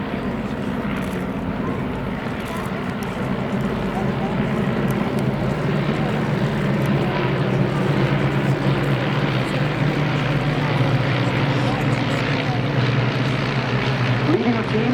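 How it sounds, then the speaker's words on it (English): A formation of eight aircraft with 130 horsepower de Havilland Gipsy Major engines drones steadily overhead at an RAF Cosford airshow, a continuous loud propeller roar under crowd and announcer noise. "de Havilland Gypsy Major engines."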